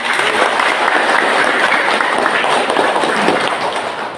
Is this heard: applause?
yes